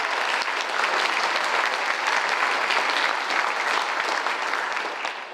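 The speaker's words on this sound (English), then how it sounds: "Please give Jacob a round of applause." An audience applauds a high school senior's performance at an arts celebration reception, a dense, steady wash of clapping that holds for several seconds and begins to taper at the end.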